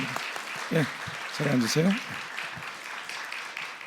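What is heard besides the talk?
congregation applause of encouragement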